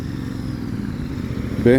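A Royal Enfield motorcycle engine rumbles steadily at a gathering of the brand's bikes, a low idle with a sharper rev rising near the end, with people talking in the background.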